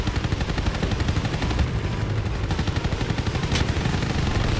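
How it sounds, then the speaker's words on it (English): A relentless anti-aircraft barrage pounds away during a WWII aerial dogfight game, rapid dense gunfire bursts rattling continuously, loud and close, with no voices over it. "They had another anti-aircraft strike. And it's still going on. Being barraged."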